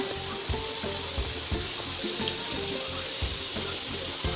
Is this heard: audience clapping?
no